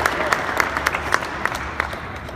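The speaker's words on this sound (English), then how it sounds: "Yeah, go ahead and applause." A crowd applauds steadily, a dense patter of many hands clapping together at a lively, even level.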